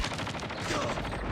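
Rapid gunfire in the mobile shooter Call of Duty Mobile, a dense stream of loud close shots in a quick, unbroken rhythm over the whole moment.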